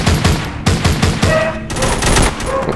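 Rapid gunfire in The Walking Zombies 2, a shooter video game, with dense overlapping bursts of shots that run nearly continuously, loud and close throughout.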